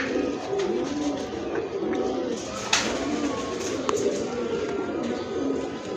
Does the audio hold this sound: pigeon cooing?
yes